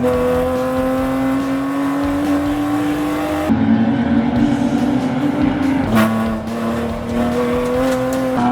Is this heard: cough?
no